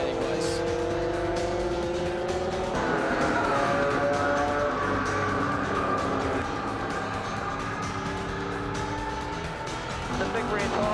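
Holden Monaro race cars roar loudly through Shell Corner in a big slide, engines droning with rising and falling pitch and tyres squealing, under excited commentary.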